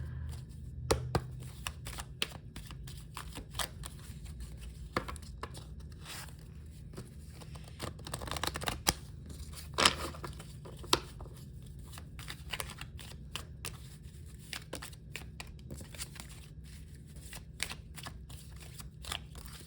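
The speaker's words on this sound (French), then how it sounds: "je vais juste prendre quelques cartes de celui-là" Playing cards being taken from a deck and shuffled, soft close papery flicks and taps arriving in short irregular bursts over a quiet background.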